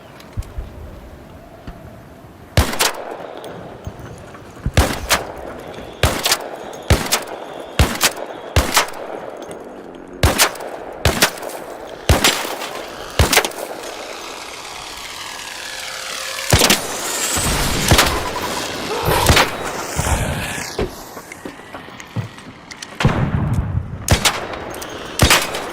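Gunfire in the video game ARC Raiders: a long run of sharp, loud single shots and short bursts at irregular spacing, with rumbling game ambience between them.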